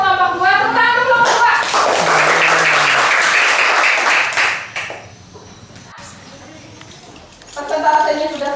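Classroom applause for a student group after their presentation in a Christian religion lesson, a burst of many hands clapping for about three seconds that fades out, with voices talking before and after.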